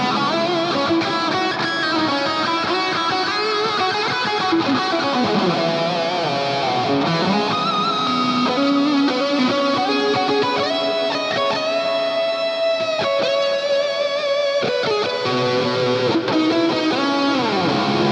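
Ambient lead electric guitar through an Eventide Blackhole reverb pedal, sustained singing notes and bends blooming into a long, washy tail that fills the whole stretch at steady volume with no talk.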